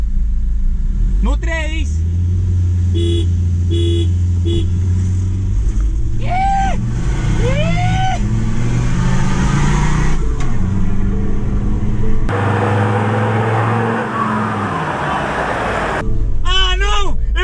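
Ford Ranger Raptor pickup engine roaring and revving hard in a tug of war against a Ford Ranger 3.2, a steady loud rumble under frequent excited talk.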